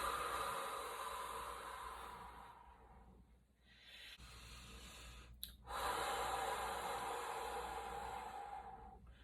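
Slow breathing during a guided meditation, a long soft exhale fading into a pause, then another airy breath rising, heard close and quiet with no talking.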